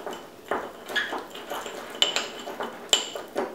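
A utensil mixing meat seasoning in a bowl, a series of light metallic clinks and scrapes against the bowl at an uneven rhythm, close and fairly quiet, with no talking.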